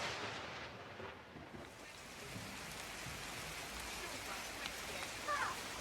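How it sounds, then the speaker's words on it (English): Rain falling steadily outdoors as a shower begins, a dense continuous hiss of drops on surfaces with some low rumbling underneath, fairly even in level throughout. "Starting to rain."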